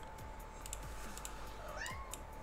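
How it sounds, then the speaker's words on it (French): A house cat meows close by several times in quick succession, short chirpy calls over a faint steady background hum with light clicking. "j'ai un chat là qui veut se faire flatter."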